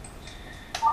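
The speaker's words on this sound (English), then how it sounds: "sorry, that's my phone" A mobile phone sounds during a conference talk, brief electronic tones like keypad beeps, a short bright burst ending in a louder sustained tone, close and clear.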